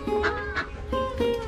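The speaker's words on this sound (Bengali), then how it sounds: "দেখছো হাঁস মুরগি দেখছো?" Ducks and chickens in a rural field area in Manikganj give a few short, nasal honking calls close by over quiet outdoor background.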